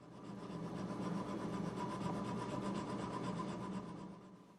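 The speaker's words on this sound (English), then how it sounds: "I'll do this with some 80 grit sandpaper" Steady back-and-forth rasping of 80 grit sandpaper deepening the nut slots on a handmade electric guitar, close and continuous for a few seconds.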